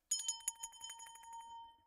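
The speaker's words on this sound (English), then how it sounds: "You rang your own bell?" A small bell rings quickly in a rapid, jingling flurry with a steady tinny tone that fades out over about two seconds, faint and alone with no talking.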